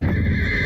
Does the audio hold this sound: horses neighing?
yes